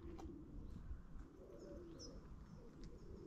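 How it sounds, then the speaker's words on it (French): A pigeon coos softly and repeatedly amid quiet outdoor ambience, with a few faint chirps from other birds. "C'est con un pigeon, mais c'est beau quand même"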